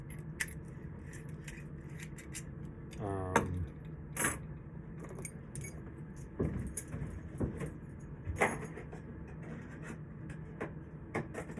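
A large bunch of deadbolt keys jangles up close in short, scattered metallic bursts, with faint background hum between the jingles.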